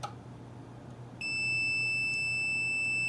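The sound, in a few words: multimeter continuity test beep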